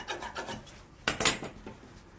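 Silk fabric is cut to size for a pavadai in a series of soft, quick rasping snips, a few faint strokes followed by two sharper, louder cuts close by.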